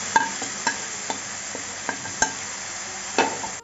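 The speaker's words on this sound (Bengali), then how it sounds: "সব সবজিগুলো দিয়ে দিচ্ছি" Mixed vegetables tipped into hot oil and fried spices for a dal dish, a steady close sizzle punctuated by repeated sharp clinks of a spoon stirring against the pan.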